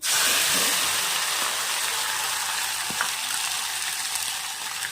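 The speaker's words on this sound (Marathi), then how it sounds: "छानाला तेलामध्ये भाजून घ्यायचा आहे मसाला" Ground masala paste roasts in hot oil in a pan with bay leaves and curry leaves, giving a loud, steady sizzle that starts strong and eases slightly, with a faint stirring knock midway.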